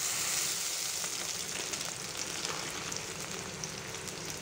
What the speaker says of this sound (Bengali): আমার পেঁয়াজ, তেজপাতাগুলা ভাজা হচ্ছে।